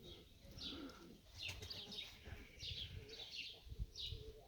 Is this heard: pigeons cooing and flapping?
yes